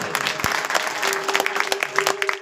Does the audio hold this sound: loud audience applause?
yes